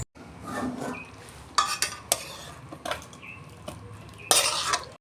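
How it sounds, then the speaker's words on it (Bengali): Snake gourd and potato posto is poured from a pan after the lid comes off, giving scraping, stirring clinks of a utensil against metal and soft splatting in short bursts, close and moderately loud, with no talking. "বন্ধুরা ঢাকনা খুলছি, হয়ে গেছে, আমি ঢেলে ফেলছি।"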